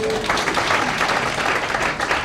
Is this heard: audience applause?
yes